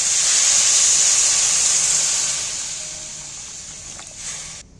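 Water poured into a pan of hot oil with onions, green chilli and ginger gives a loud, steady steam hiss that fades gradually over a few seconds, heard alone with no talk.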